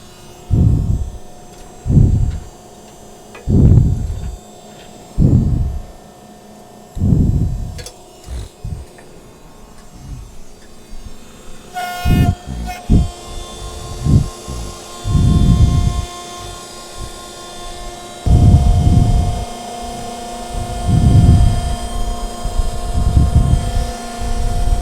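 An Olympus pugmill's Scorpion Conveyor folding up over the pug mill: a droning mechanical hum with regular loud thumping pulses, and a shift in the machine tone partway through.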